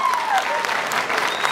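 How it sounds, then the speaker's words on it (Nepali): An audience at a live comedy show applauds loudly, a dense burst of clapping that fills the whole moment. "एकपल्ट उहाँलाई जोरदार ताली दिनुहोस्"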